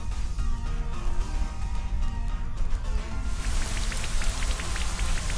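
Rain conjured by the Rain Dance move in a Pokémon video game, a steady hiss of falling raindrops under a low game-music drone, growing brighter and denser partway through.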